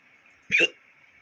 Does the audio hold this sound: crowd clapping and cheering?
no